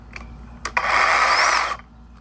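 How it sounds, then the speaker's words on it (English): A chainsaw mounted on the back of a golf cart runs in one short, loud burst of about a second, a harsh roaring buzz preceded by a couple of quick mechanical clicks. "and that runs the chainsaw"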